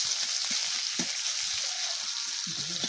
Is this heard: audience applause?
no